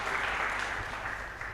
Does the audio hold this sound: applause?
yes